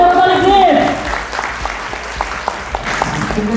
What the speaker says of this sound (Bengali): জোরে করতালি প্লিজ।